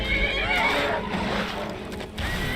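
A horse in a fantasy video game lets out a loud, shaking neigh with wavering whinny tones and clopping hooves, close and continuous throughout the short stretch, without talking.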